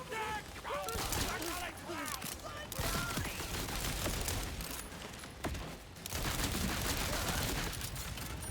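Jakobs pistol knife launcher firing in Borderlands 4, dense rapid volleys of shots layered with game effects and mechanical clatter, loud and continuous under a talking voice.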